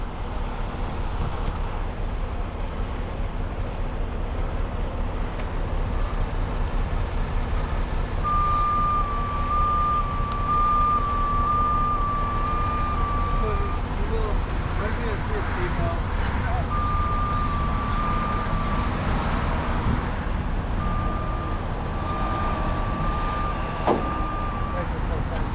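A heavy recovery truck maneuvers at an airport amid steady engine and roadway rumble, its reversing alarm beeping in repeated bursts while people talk nearby.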